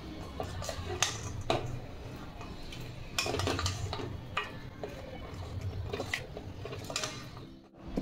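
Sweet shev is stirred in a pot in a home kitchen, making scattered clinks and scraping taps of a utensil against the pot, some louder than others, with a brief quiet dip near the end.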